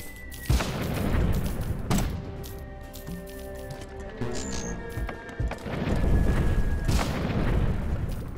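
Cannon fire in the game Cannon Brawl: several heavy booms and thuds land at intervals, loud and close, over a sustained tonal game backdrop, with a brief spoken word or two.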